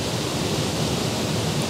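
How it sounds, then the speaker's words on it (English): Steady, broadband rush of a waterfall cascading into a pool in a gorge at the Falls of Acharn, a continuous close, even roar with no voices. "pointing at the waterfall"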